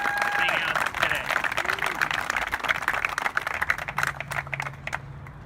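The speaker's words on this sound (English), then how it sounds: "Let's give them a round of applause for being out today." An outdoor crowd at a forest groundbreaking ceremony applauds Cincinnati's mountain bike police, sustained clapping that stays strong and then thins toward the end, with faint voices mixed in.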